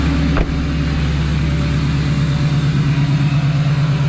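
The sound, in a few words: Duramax LBZ diesel engine high idle after cold start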